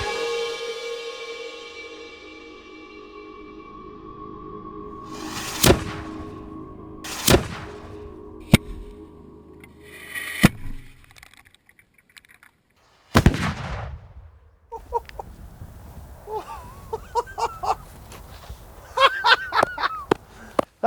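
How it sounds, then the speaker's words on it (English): Roaring Meg, a medieval cannon, fires outdoors with one loud, heavy boom, preceded by several sharp separate cracks and followed by scattered smaller bangs, with people talking in between. "The gun is now loaded, primed and ready to fire."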